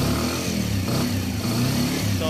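A car engine revs after a timing chain replacement, running smoothly with no internal grinding. It is loud and close, with a steady mid-pitched drone that holds across the whole stretch.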